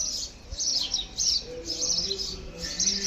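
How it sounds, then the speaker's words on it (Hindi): Several small birds chirping and tweeting in quick bursts, fairly close and clear, with a few lower cooing notes in the background. "सुबह सुबह में बर्ड्स की आवाज़ इधर आती है।"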